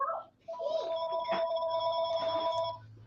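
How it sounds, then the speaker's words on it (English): A telephone bell rings steadily with a bright, sustained tone through most of the moment on a live talk show, with a murmur of room noise beneath it and a short pause near the start. "the phone has to ring, but that's all right"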